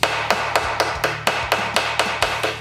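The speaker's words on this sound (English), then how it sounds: "I'm gonna try to start upsetting the rivet to kind of capture that washer." Steady, evenly spaced hammer blows, about ten sharp metallic strikes, ring close up as a rivet is upset to capture a washer on an armor strap.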